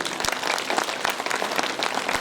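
Audience applause at a network marketing business event, a steady wash of clapping from a crowd lasting throughout, with no one speaking over it.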